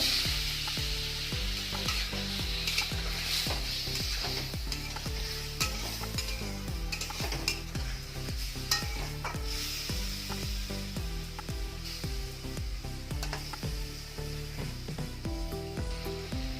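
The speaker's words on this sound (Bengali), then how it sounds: "কাঁচা লঙ্কা বাটা, সামান্য একটু জল দিয়ে কষিয়ে নেব" Green chili paste sautéed with a little water, a continuous sizzle and hiss overlaid by rhythmic stirring scrapes in a pan, with no one speaking.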